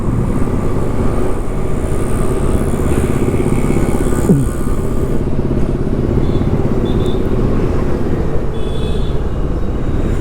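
A 2020 Kawasaki Versys 650 motorcycle rides along a road with a steady, loud engine drone and wind rush heard up close from the rider's position.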